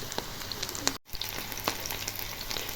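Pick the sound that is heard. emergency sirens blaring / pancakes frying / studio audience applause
pancakes frying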